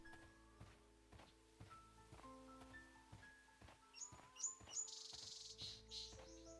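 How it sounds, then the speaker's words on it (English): Birdsong in the Sherlock Holmes: Crimes & Punishments video game, with short chirps and tweets rising near the end over a soft piano melody and ambient background, moderately faint and without talk. "the bird sounds are so fucking relaxing"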